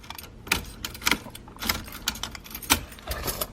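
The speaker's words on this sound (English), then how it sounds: "I put the keys in the ignition, right? Keys in ignition, boom." Car keys jingling and clicking as they go into the ignition of a twin-turbo 300ZX, a string of close metallic rattles and taps with no engine running.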